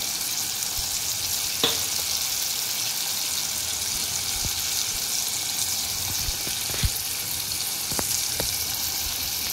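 Onion-tomato masala with turmeric fries in a pan for prawn masala, a loud and steady close sizzle throughout with a few faint stirring knocks.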